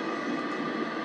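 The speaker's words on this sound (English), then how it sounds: "Oh, there's a train on our line." In a tram and train simulator game, a train running on the line gives a brief, fairly quiet, steady mechanical rumble with a faint whine, with no voices.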